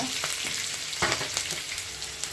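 Mustard seeds and cumin sizzle and crackle in hot oil for an onion curry, a steady close frying hiss broken by sharp pops and spattering bursts, with no voices.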